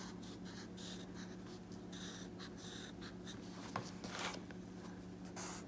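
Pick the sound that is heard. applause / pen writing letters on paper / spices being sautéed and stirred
pen writing letters on paper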